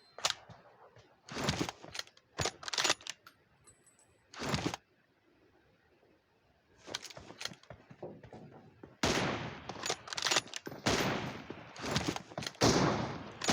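Gunfire in the shooting game PUBG: several sharp bursts of shots come in irregular clusters separated by quiet gaps, with a longer, denser volley near the end, loud and close with no talk.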